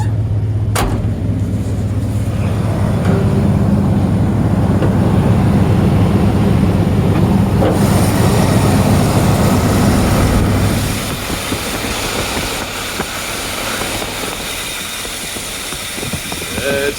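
A loud, rough Ford engine with straight pipe exhaust idles steadily nearby, failing to idle down, a harsh low drone that eases slightly partway through, with faint voices underneath.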